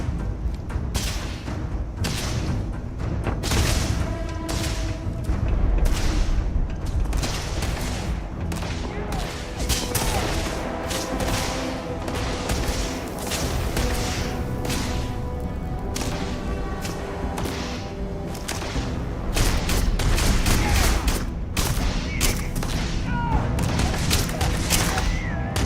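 Gunfire from the video game Starfield, with rapid sustained bursts and heavy thuds of impacts, loud and continuous throughout with no pause, plus whip-like cracks layered over a dense low rumble.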